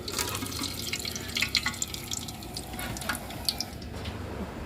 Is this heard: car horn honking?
no